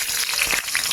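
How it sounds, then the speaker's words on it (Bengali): Dried red chillies tempering in hot oil in a kadai, a steady close sizzle with a brief louder burst midway, no voices. "এবার আমি টকে ফোড়ন দেবো"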